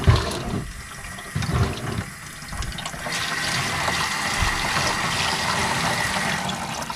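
Running water rinses grit off tumbled rocks, a steady close splashing and gushing stream with a few heavier bursts at the start.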